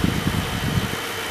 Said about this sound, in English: There's my air conditioner running yet again